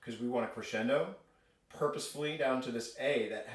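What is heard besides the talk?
No distinct noise like a dog, phone or traffic.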